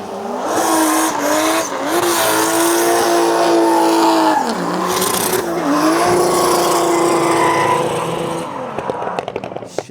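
Drift cars run a track during a drift session, including a Pro 2 class car, with loud continuous engine revving, shifting pitch and squealing tyres throughout, sounding close and steady from start to finish.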